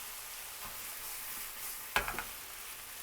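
Vegetables stir-frying in a pan at home, a soft steady sizzle with a few sharp clattering scrapes in the middle, fairly quiet overall.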